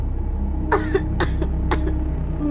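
A young girl coughs three times in a horror story scene, with each cough short and sharp and evenly spaced over a low, steady hum in a quiet room.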